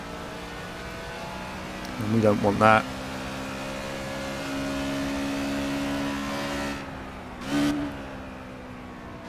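A Formula Rookie Ford race car in the Project Cars video game hums along at a steady engine pitch, with a couple of short revving bursts and a voice talking over it.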